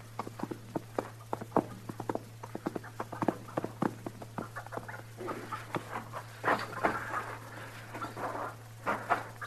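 Horse hooves clip-clop in a steady walking rhythm on hard ground in a 1952 radio Western drama, close and clear, with a low hum underneath and a few scuffles toward the end.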